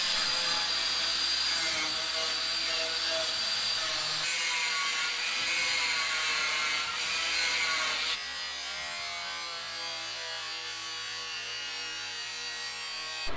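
Aluminum sheet is cut into pieces for a custom radiator cover on a 1971 GTO convertible, giving a steady, harsh, high rasping cut that runs close and loud, easing in tone partway through.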